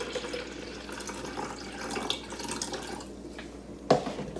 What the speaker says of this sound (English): And then I'm gonna fill it up the rest of the way with water